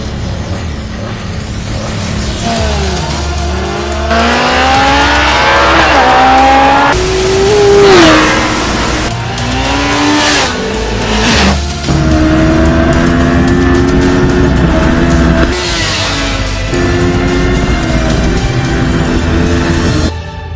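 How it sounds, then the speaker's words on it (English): A Kawasaki ZX-14R engine screams through repeated hard accelerations, pitch climbing and dropping with each gear, loud and close throughout. "you are left with a motorcycle that accelerates like this"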